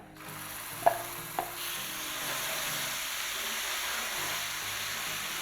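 Chilli crab paste frying in a pan while being stirred. Two quick utensil knocks come first, then a soft, steady, low-level sizzle.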